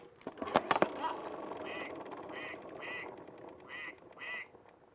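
Pull-cord animal sound spinner toy landing on the duck and playing a recorded duck's quacking, five or six short quacks in a steady rhythm after a brief clatter of the cord and dial, moderately loud and close.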